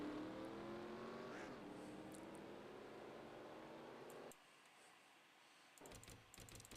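Engine drone of a pack of race cars bunched together at Talladega in a racing video game, a continuous loud roar with shifting pitch that drops away suddenly, followed by faint clicking.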